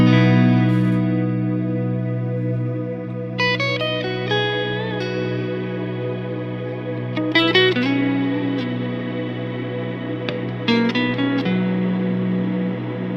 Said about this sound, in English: Let's try the howl on the Immerse.